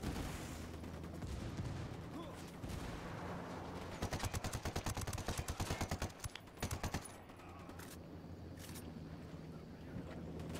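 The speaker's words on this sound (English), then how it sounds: "Fox Apache's about to fire, get down." An Apache helicopter's rapid cannon fire in the game Ghost Recon Wildlands, heard as a fast, steady burst of shots over a constant roaring in-game background, with scattered single impacts afterward.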